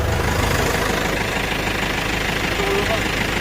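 An LS PS90 tractor engine idles close by with a steady, dense diesel rumble and knock throughout, with people talking over it.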